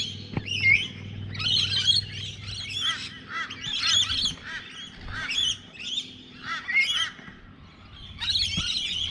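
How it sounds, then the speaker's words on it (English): A flock of rainbow lorikeets calls outdoors with bursts of shrill, screechy chatter repeating across the whole stretch, fairly close, over a low background rumble. "bunch of rainbow lorikeets. They're another smart little bird, they are."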